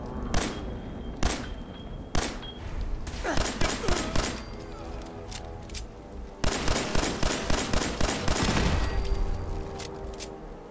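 Rapid gunfire in the video game Fallout 4 at a gunners outpost, loud bursts of automatic shots and single cracks repeating across the clip, with dense volleys in the second half and no talking.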